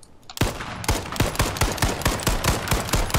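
Rapid automatic gunfire in the battle royale game H1Z1, a fast burst of sharp, evenly spaced shots going on without pause, loud and near, with no talking.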